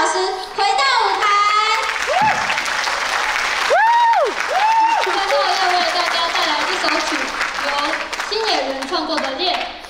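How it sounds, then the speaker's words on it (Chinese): A concert audience applauds warmly as a teacher returns to the stage for an encore, sustained crowd clapping that fills the whole stretch, with shouts and voices rising over it. "那我们就用最热烈的掌声，再次欢迎探子老师回到舞台。"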